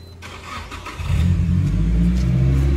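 A Nissan Silvia S15 with a Tomei-tuned Nismo SR20DET engine cranks over and fires up, then settles into a loud, steady rev close by, with no talking.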